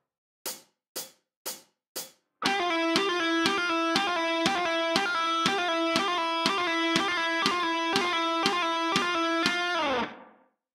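Four muted guitar string clicks, then a distorted electric guitar repeatedly picks a note as triplets in a slightly uneven rhythm for about eight seconds before stopping.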